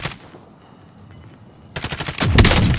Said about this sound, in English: Hold on, I'm gonna shoot him now in a second.